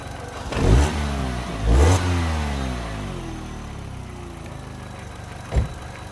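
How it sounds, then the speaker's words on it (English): A car engine idles, then revs sharply twice in quick succession, the pitch sweeping down as it settles, followed by a brief third blip. "The engine's dropping."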